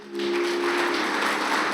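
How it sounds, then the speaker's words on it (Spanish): A church congregation at MCI Ciudad de México applauding Jesus to welcome first-time visitors during a service, with loud, sustained clapping from the crowd over a steady held tone. "La iglesia, dele un fuerte aplauso a Jesús"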